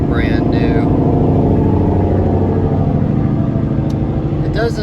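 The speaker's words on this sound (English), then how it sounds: "It doesn't do the best job in the world of blocking sounds, as you could hear as that truck passed." A truck passes a 1995 Volkswagen Cabrio, heard from inside the car as a loud, steady low rumble of road and engine noise that swells and holds throughout, with a brief voice near the start.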